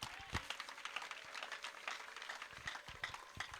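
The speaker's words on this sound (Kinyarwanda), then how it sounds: "Mukomere Yesu amashyi." A church congregation breaks into sustained applause, with dense, steady clapping continuing throughout at moderate volume.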